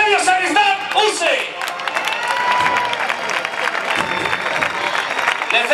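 Loud, sustained audience applause at a recortes contest in Peralejos de Abajo, with shouts and whoops rising from the crowd and an announcer's voice carrying over the start of the clapping.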